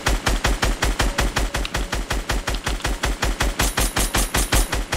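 Rapid automatic gunfire from a video game shootout rattles off in a steady, evenly spaced burst of loud shots that runs the whole time with no speech over it.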